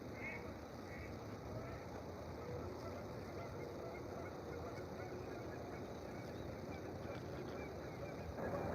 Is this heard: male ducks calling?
yes